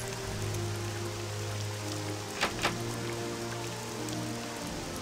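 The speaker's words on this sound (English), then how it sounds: "every time I play an Elder Scrolls game, it rains a lot" Steady rain in the Morrowind video game, a constant even hiss of falling water with a low hum beneath and two faint brief clicks midway, no talking.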